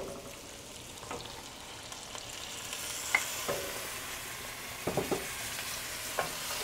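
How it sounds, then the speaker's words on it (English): Onions fry in a pan as ground spices from a molcajete are stirred in, giving a soft, steady sizzle with a few scraping stirs and light clicks, heard up close and quiet, with no talking. "my onions are starting to look beautiful. Look at that. Now I'm gonna add all my spices from my molcajete."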